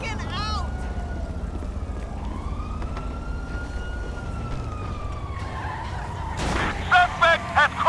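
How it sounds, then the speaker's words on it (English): Police siren wailing over car engine noise and tyre skids in GTA V, with a steady siren tone and a burst of skidding and impacts near the end. "Suspect has crashed."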